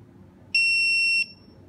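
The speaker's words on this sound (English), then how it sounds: "After you hear the long beep sound" A single long electronic beep from a WiFi alarm gateway during a firmware upgrade, high-pitched and steady, lasting well over half a second against a quiet background.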